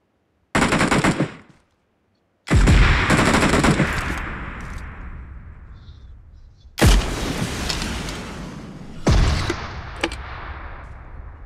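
Loud automatic gunfire in PUBG comes in several sharp bursts separated by short gaps, each burst trailing off in a fading echo.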